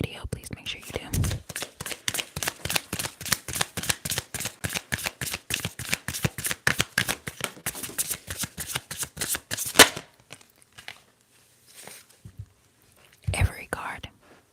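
Tarot cards are shuffled in a rapid, even riffle of crisp slaps for about ten seconds, close to the microphone, followed by quieter card handling and soft whispering.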